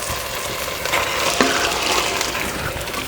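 Onion-chilli masala fries in a pan for green chilli chicken pulao while a spoon stirs it, making a continuous, close hiss with a brief scrape near the middle and no talking.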